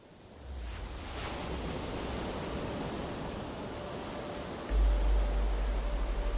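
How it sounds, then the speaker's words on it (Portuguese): Ocean waves break steadily on the shore of Rapa Nui (Easter Island), a continuous broadband roar with wind noise buffeting the microphone and a heavier surge near the end. "no ritmo constante das ondas quebrando na costa"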